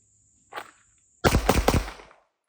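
Handgun fired on a range: a short muffled report, then a louder burst of closely spaced cracks with a brief decaying tail, close and loud over near silence.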